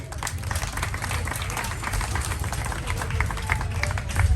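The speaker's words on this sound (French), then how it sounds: "Applaudissez les plus forts, je vous prie." Parents applaud at a Christmas school show, a dense, steady wash of clapping from a sizeable crowd that keeps going throughout, with some voices and background noise mixed in.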